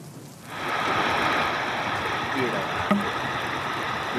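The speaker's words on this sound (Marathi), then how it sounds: "गेले काही दिवस धुव्वाधार पाऊस बरसतोय" Heavy monsoon rain falls in a steady, loud wash of hiss and patter that starts abruptly and keeps a constant level throughout.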